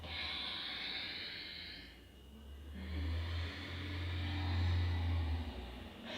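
Slow, deep yoga breaths come close and soft, a long airy inhale, a brief pause, then a longer exhale, with no talking.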